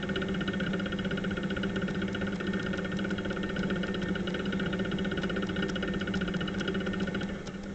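A pottery wheel motor hums steadily while porcelain is thrown. The drone is constant and close, with a mechanical whir, and eases slightly toward the end with no talk.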